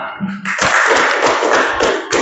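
Elementary classroom applause for a student group that just presented its project, a burst of dense, loud hand clapping from many children lasting about two seconds after a brief voice.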